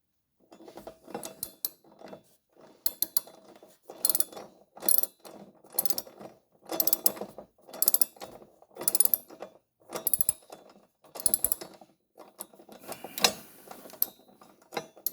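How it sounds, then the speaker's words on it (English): A bolt on a ute side step mount is tightened with a ratchet, producing repeated bursts of clicking in uneven rhythm with short pauses between, close and fairly quiet. "we just need to tighten that bolt that we took out"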